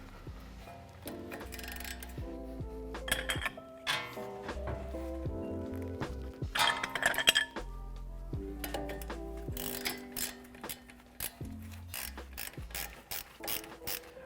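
A ratchet wrench clicks in quick bursts while loosening a 19mm nut on a Toyota Tacoma front suspension knuckle, the pawl ticking in rapid runs with short pauses and clanks between strokes.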